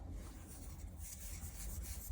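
Macrame cord rubs and drags as it is pulled through a loop around a wooden dowel, a faint, close, continuous scratchy friction with no voices.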